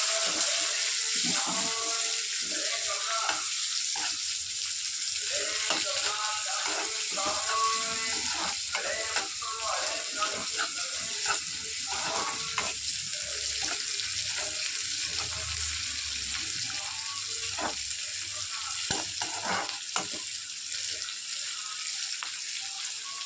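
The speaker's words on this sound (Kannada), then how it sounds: "ಆನಿಯನ್ ಹಾಕ್ಕೊಂಡು ಚೆನ್ನಾಗಿ ಫ್ರೈ ಮಾಡ್ಕೊಳ್ಳಿ." Chopped onions fry steadily in a pan, a continuous close sizzle with light crackle and occasional stirring and clinks; faint voices sit low in the background.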